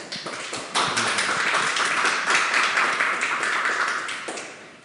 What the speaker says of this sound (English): please give a warm applause to Alex.